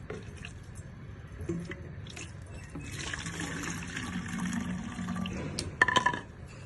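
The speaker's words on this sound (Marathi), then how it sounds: "आता ही पाणी गाळून घेणार आहे" Water from soaked watermelon rinds is poured through a strainer, a close trickle and drip of liquid that swells into a fuller pour with a few clinks near the end.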